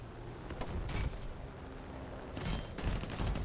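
Aircraft cannon fire in the air arcade mode of War Thunder, heard as rapid bursts of shots in two clusters with a steady engine drone running underneath.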